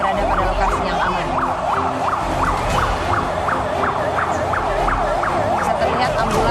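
An ambulance siren wails in a fast, regular up-and-down cycle at a terror attack scene, loud and steady for several seconds over low traffic rumble and background noise.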